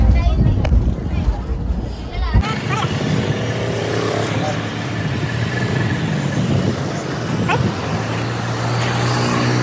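Riding aboard a bus in a village area gives a loud, continuous engine rumble with road noise and vehicle vibration, and voices are heard talking at the start.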